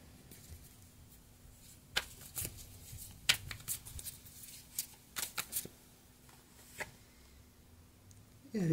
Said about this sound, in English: Let's get another card out for you.